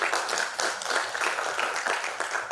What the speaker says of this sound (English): Give applause to all of you guys.